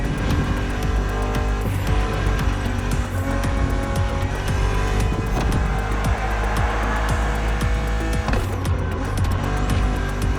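A BMW Z roadster races through The Crew Motorfest against an aggressive opponent, its engine roaring steadily and loud throughout, with bursts of tire squeal and skidding over a constant drone of game music and ambience.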